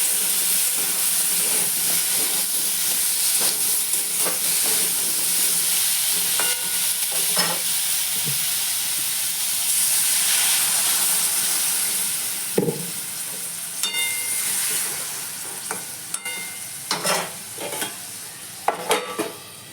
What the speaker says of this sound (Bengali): এখন আলু ভাজাটা বসিয়ে দিই। আলু ভাজা হয়ে গেলে কড়াইয়ের তেলটা অল্প থাকবে